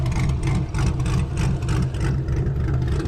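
A cammed Cadillac CTS-V engine idles close by with a deep, lumpy, uneven rumble that loops steadily throughout.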